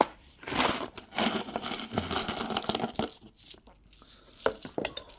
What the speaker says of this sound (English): dropping coins about the place again